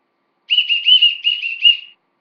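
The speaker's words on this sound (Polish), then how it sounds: "był taki fajny gwizdek" A whistle blown in a quick series of trilling, warbling blasts, fairly loud and close, lasting about a second and a half with no talking.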